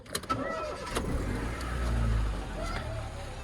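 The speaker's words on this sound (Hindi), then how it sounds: "गाड़ी चल चुकी है जी।" A car engine starts with a few quick clicks and a cranking burst. It catches into a low rumble that swells, then settles toward a steady idle close by.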